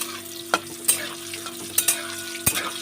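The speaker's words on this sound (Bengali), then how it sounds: "তেলটা গরম হয়েছে আমি বড়িগুলো ভেজে নেবো" Lentil dumplings (bori) fry in hot oil with a close, crackling sizzle, punctuated by several crisp clinks and scrapes of a spatula against the pan.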